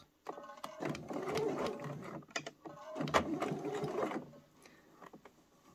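A sewing machine stitching a fabric scrunchie seam with backstitches at start and finish runs in two close bursts of rapid mechanical whirring, separated by a short pause and ending in quieter clicks.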